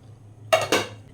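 A metal stand is set into a pot of hot water while steaming semolina dhokla, giving two quick clanks of metal against the pot in close succession, close by and fairly quiet.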